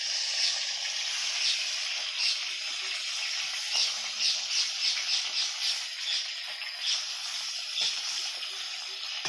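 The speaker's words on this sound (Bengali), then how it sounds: "মুড়োটা ভাজা হলে ডিমটা ভাজা করবো।" A fish head fries in a pan of hot oil with a steady bright sizzle and hiss, small pops and crackles bursting through at close range, with no talking.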